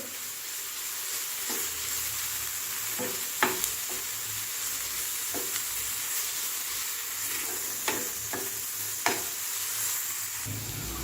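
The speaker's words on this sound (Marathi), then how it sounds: "याच्यामध्ये आता आपण अर्धा भर आलं लसूण पेस्ट टाकून घेणार आहे छान भाजून घ्यायचा आहे" Onion fries with ginger garlic paste in a pan, giving a continuous close hiss with scattered clicks and scrapes from stirring across the whole stretch.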